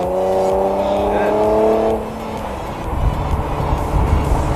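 Infiniti G37 sedan with ported upper and lower intake manifolds, 3-inch intakes and a race retune, accelerating hard, its engine note climbing fast and loud for about two seconds before dropping into rougher, rumbling engine noise.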